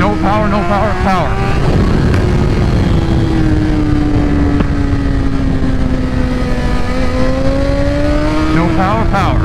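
A 2024 BMW M1000XR motorcycle pulls hard through the gears, the engine note climbing, dropping at a shift, then rising again in a loud, close, sustained roar, with wind noise around it.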